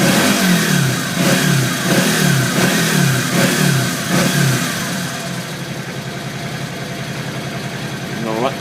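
A 1983 Yamaha Virago XV500 motorcycle engine being revved during carburetor syncing, with several quick throttle blips rising and falling in pitch, then settling into a steady idle, loud and close.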